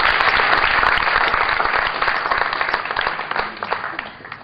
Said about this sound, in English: A polite applause for all our finalists